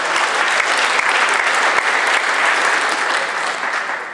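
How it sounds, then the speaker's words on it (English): A luncheon audience at a union meeting claps for the event organizers, a dense, steady wash of applause from many hands at full strength that tapers slightly toward the end. "We can give them a round of applause for their efforts to have us a nice event"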